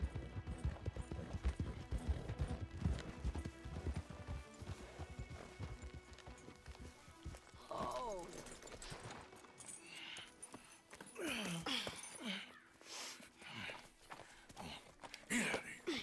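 Horses clip-clop and pound along in a Red Dead Redemption 2 game scene, steady hoofbeats up close through the first half, then a few whinnies and scattered movement over quieter ambience.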